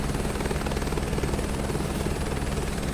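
Helicopter flying in Microsoft Flight Simulator 2024, a steady loud rotor and engine drone with rapid blade chop, continuous and close throughout, with no talking.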